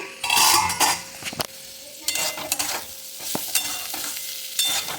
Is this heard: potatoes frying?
yes